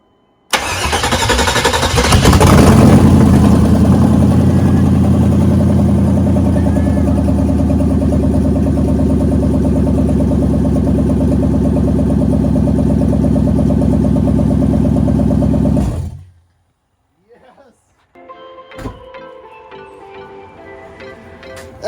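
A freshly installed 1997 Chevy 350 cubic-inch 5.7L Vortec V8 fires up for the first time and holds a loud, steady idle for about fifteen seconds, then cuts off abruptly, leaving faint clicks and rustles.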